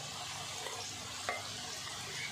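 Colocasia pieces sizzle and fry steadily in a pan while being stirred, a continuous soft crackle with one brief scrape of the spoon partway through.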